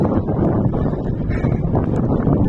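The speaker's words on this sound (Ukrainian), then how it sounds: "Вітер посилився, дощ теж." Strong wind buffets the microphone in a continuous heavy roar, gusting unevenly throughout, with a rushing hiss of rain mixed in.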